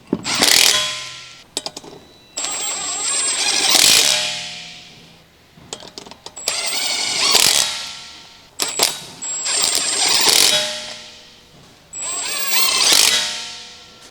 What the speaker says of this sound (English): Using the electric impact wrench with the 19mm long socket, snug the lug nuts.